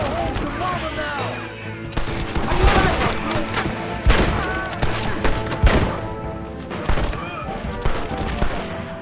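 Gunfire in the video game Red Dead Redemption: dense, overlapping volleys of shots and thuds crackling continuously alongside game music, with shouting voices mixed in.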